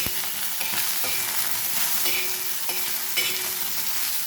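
Okra fries in oil in a pan with a steady sizzle and a series of regular spatula scrapes and knocks, close and clear, with no one speaking.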